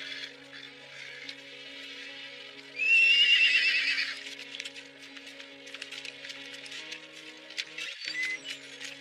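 A horse whinnies loudly in a drama scene set around a historic Turkic encampment, a single rising neigh lasting over a second, with faint clip-clop and rustling ambience around it and no talk.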